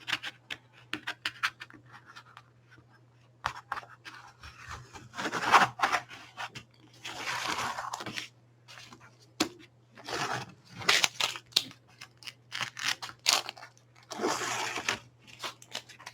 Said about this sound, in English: we can pretty much take off the tape and see how the painting looks